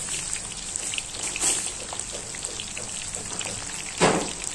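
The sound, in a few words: corn kernels frying in oil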